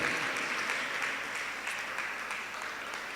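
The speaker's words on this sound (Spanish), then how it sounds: "Que se goce el Espíritu Santo con ese aplauso." Church congregation applauding during a service, an even rain of clapping that stays fairly soft and steady, easing slightly toward the end, with no voice over it.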